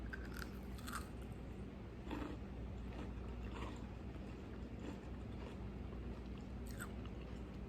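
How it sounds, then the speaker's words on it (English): Crisp crunching bites into the firm outer edge of a homemade brown sugar cookie, several close, sharp crackles spread over a few seconds against a quiet room background. "You hear that crunch? This is a really good cookie."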